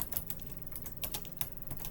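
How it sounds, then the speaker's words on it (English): Rapid keystrokes on a computer keyboard while code is typed, a steady run of light, close clicks and taps with no talking. "I'm just going to start typing in the code to make it rotate"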